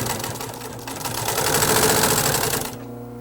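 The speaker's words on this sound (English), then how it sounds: "Sew it down." A sewing machine runs in one continuous fast burst, stitching down a cushion seam with cording on a sofa's inner spring cushion, then stops abruptly near the end.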